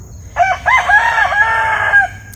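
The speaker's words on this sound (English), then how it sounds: "Excuse the rooster." A rooster crows once in a clear, drawn-out cock-a-doodle-doo, close and loud, outdoors in a homestead garden with a low background rumble.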